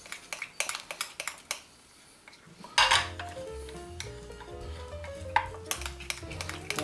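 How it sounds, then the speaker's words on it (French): A small spoon stirs liquid sourdough starter in a container, giving light clinks and taps at first, then a denser run of scraping, rattling contact against the vessel. "on va remuer, on va mélanger le tout à l'aide d'une petite cuillère"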